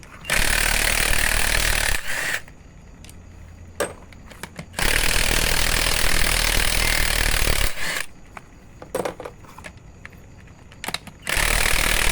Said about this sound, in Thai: ทำไมบล็อกช่างเสียงดังครับ บล็อกมันมีแต่เสียงไม่มีแรง